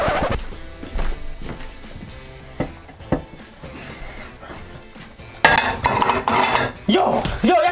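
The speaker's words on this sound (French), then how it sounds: "T'es en train de faire la vaisselle." Plates, pots and cutlery clatter and clink while dishes are washed in a home kitchen, with irregular close knocks and scrapes that grow busier and louder toward the end.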